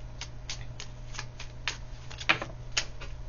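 Tarot cards being shuffled and drawn, a steady run of soft flicks and riffles with a couple of sharper card snaps near the end, close and quiet.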